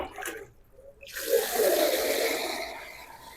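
Water running from a pipe for washing, starting after a short quiet gap and then flowing as a steady splashing stream up close, strongest in the middle and easing slightly toward the end.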